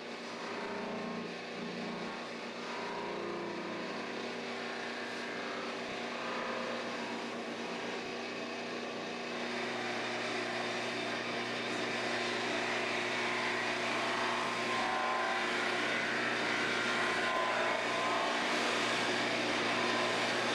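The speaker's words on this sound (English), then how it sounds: "let me show you how to do it on the buffing wheel" A motorized buffing wheel polishing the lacquered body of a guitar gives a continuous loud whirring roar that holds steady for the whole stretch and rises slightly partway through.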